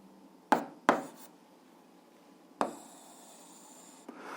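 Pen strokes writing out an 8th-grade algebra solution: a few sharp, quiet taps and short scratches spaced over several seconds, with no talking.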